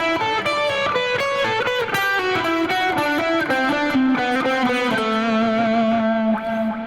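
Driven electric guitar plays a lead phrase from a song's solo, rapid picked notes descending into a held, bent note that sustains and fades slightly, close and full.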